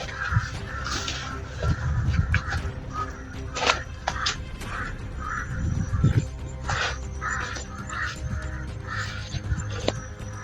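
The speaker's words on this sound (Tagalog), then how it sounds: "Ang dami mga ibon." A flock of crows cawing repeatedly from several directions, some near and some farther off, over a low outdoor rumble.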